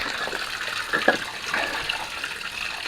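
Water drains from an opened water release, a steady hissing gush and trickle with small splashes, continuous and moderately close with no voices.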